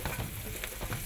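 Chicken and vegetables stir-fried in oil with ginger in a pan, a steady close sizzle with soft scraping stirs throughout, no voices.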